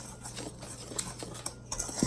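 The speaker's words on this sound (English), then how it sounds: "I'm just going to whisk it all together really well" A whisk working dry pie crust ingredients together in a bowl for apple pie, a soft continuous scratchy patter with light taps against the bowl, faint and close.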